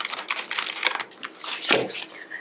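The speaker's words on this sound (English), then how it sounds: "Let me just give it a quick shuffle." A tarot card deck is shuffled by hand in quick bursts of riffling, flicking card noise, close and crisp, with brief pauses between runs.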